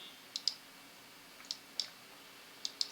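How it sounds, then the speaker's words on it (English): Computer mouse clicks in quiet surroundings, three pairs of soft, close clicks spaced about a second apart, with no voices. "should click the run button"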